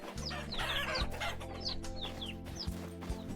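Chickens in the Vintage Story video game cluck over and over, with a few short crowing calls mixed in. The sound is loud and steady, with no talking.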